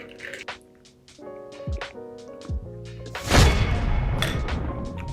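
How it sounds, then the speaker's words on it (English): Someone stirs a raspberry gin mojito in a glass, making scattered clinks and taps of ice early on, then a louder wet, sloshing rush of liquid moving around. "I will give it a nice little stir"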